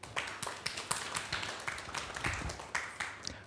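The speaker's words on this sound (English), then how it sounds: "can we give a round of applause for him?" Sparse audience clapping at a student accommodation summit, a modest scattering of distinct hand claps with uneven rhythm, fairly close and moderately loud.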